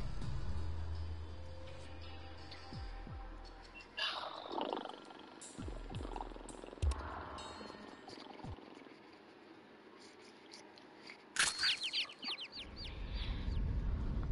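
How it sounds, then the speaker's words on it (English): Chickens cluck and squawk in the Mortal Kombat video game, scattered clucks among game effects, moderately close and fairly quiet. "The chickens are back!"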